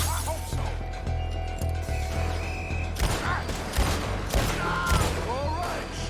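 Gunfire during a trolley shootout in the video game Red Dead Redemption 2, repeated sharp shots and cracks over a steady low rumble of the moving trolley, with voices shouting at times.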